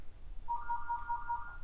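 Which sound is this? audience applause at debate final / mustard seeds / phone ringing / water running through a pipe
phone ringing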